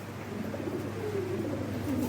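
Fancy pigeons coo softly in a few low, rolling calls, close by, over a steady background hum.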